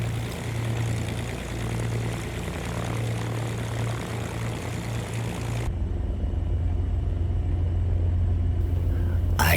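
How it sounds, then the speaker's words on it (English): Beechcraft Baron B58 twin-engine piston plane in the X-Plane 12 simulator taxiing to the runway, a steady droning propeller and engine rumble that shifts to a brighter, fuller tone partway through. "I can taxi to the runway"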